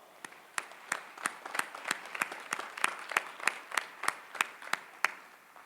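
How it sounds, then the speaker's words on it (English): Scattered, fairly faint audience clapping at the 2021 Northeastern University graduation ceremony, with a steady patter of individual claps in a large hall. "Give them a round of applause."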